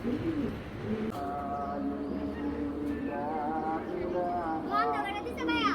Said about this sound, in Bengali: মার্শাল্লাহ অনেক সুন্দর কবুতরটা